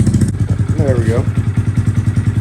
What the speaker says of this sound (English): Low idle. So that's how it should be running.